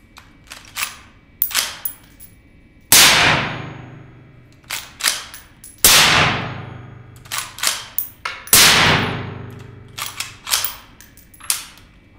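A Henry Long Ranger rifle fitted with an AAC suppressor fires three sharp, loud shots a few seconds apart, with metallic action clicks and handling noises between them.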